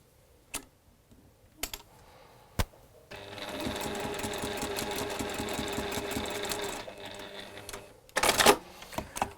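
A sewing machine stitching a straight fabric seam: a few isolated clicks, then a steady mechanical whirring run of about four seconds, followed by a quick louder rattle near the end.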